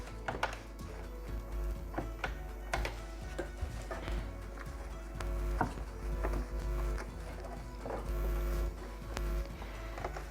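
A sewing machine stitches a homemade slipper, giving a faint, rapid mechanical clatter with irregular ticks and knocks, steady and close with no talking.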